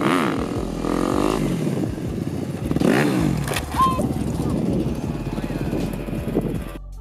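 A motorcycle engine starts up and revs for a stunt, a rough, loud drone with rising and falling pitch sweeps, heard under voices and background clatter.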